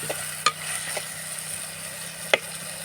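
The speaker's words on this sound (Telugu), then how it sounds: "ఇంకా టమాటాలు చక్కగా ఉడిపించుకోవాలి" Tomatoes stirred while cooking in a pan for egg curry, with a low steady simmer and a few sharp spoon scrapes against the pan.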